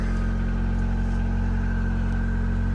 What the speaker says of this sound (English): Engine still sounding strong.